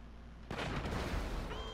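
Heavy gunfire from the mounted weapon on the Mobile Operations Center truck in GTA V Online, the slow, hard-hitting gun of the Gunrunning update, starts abruptly after a quiet moment and keeps up as one dense, loud, rumbling barrage with no talking.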